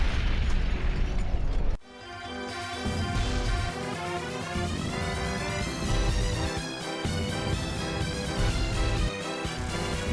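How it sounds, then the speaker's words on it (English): A nuke grenade detonates in Fallout 3 with a loud, deep blast. A sharp cutoff follows, then sustained ringing tones and rumble at a steady level. "He just threw a grenade nuke at me."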